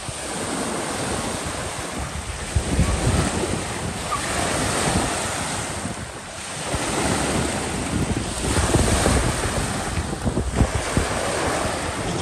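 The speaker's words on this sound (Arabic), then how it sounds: "شفتوا معايا هذا بحر اصطناعي والمواج كيفاش كيخدموا هكا" Loud, continuous surf crashes and rolls in an artificial sea wave pool at a resort in Hurghada, Egypt, swelling and easing in repeated surges, with wind buffeting the microphone throughout.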